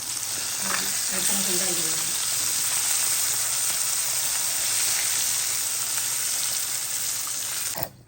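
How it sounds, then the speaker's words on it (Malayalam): Karimeen (pearl spot fish) frying in a pan, a steady close sizzle with faint crackles that runs without a break for about eight seconds, and a short clatter at the very end. "അപ്പം ഗൈസ് മീൻ ഇതാ അവിടെ പൊരിച്ച്"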